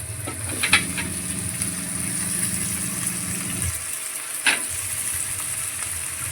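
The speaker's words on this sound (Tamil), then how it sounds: "கருவேப்பிலை கொத்தமல்லி இதெல்லாம் போட்டு வதங்கியாச்சு நம்ம வந்து கத்திரிக்காய் முருக்காய் உருளைக்கிழங்கு இதெல்லாம் வந்து போட்டுருவோம்" Eggplant, drumstick and potato frying in a pan with curry leaves and coriander, a steady close sizzle with a low hum beneath, broken by a couple of sharp clatters as the vegetables are stirred.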